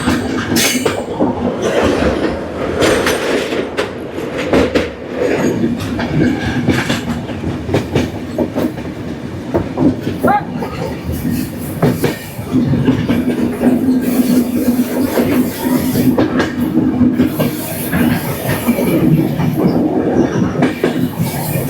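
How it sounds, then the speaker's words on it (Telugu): Kirandul passenger train 58501 rolling around a curve on the Visakhapatnam–Araku line, a steady loud rumble of wheels with rhythmic clickety-clack and a thin sustained wheel squeal on the bend, heard from on board. "మన train full C alphabet C ప్రకారం మన టర్నింగ్ తీసుకుంటుంది"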